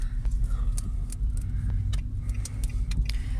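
Steady engine hum and road rumble from inside a moving car, with faint rattles and small clicks over the drone and no talking.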